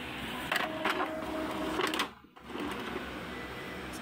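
An inkjet printer works through a head-cleaning cycle, giving a steady mechanical whir with a few brief clicks and carriage shuffles, then a short pause before the running noise resumes at close range.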